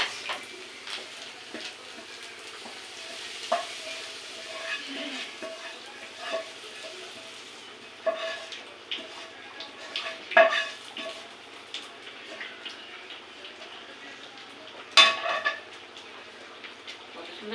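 Masala frying in a pan as guests' dishes are cooked at home, a steady low sizzle with scattered scraping stirs and a few louder clinks of spoon on metal over most of the stretch, no talk.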